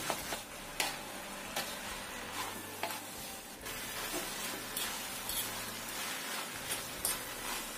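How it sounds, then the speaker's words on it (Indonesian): Fried noodles with spring onion and celery stirred in a hot pan: continuous sizzling with a run of scraping utensil strokes and clinks at an uneven rhythm, close and clear throughout. "Kemudian kita aduk sampai rata semuanya."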